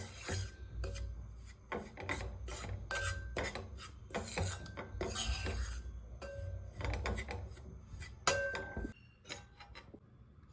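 Flour being pressed and dry-roasted in a pan until golden brown, heard as quiet, repeated scraping and rasping strokes of a spatula against the pan, steady and close with no talk.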